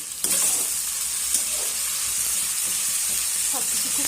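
Spice masala with turmeric powder and a splash of water is stir-fried in a pan for a prawn curry, giving a steady loud sizzle and steamy hiss throughout, with occasional spoon scrapes and no talking.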